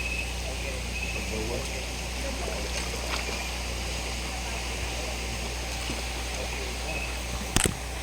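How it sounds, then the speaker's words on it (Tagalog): Flowing water at Ardent Hot Spring Resort in Mambajao, Camiguin, a steady rushing wash with a constant low rumble, heard under a person's talk and ending with a brief sharp knock near the end. "Uy, tubig no?"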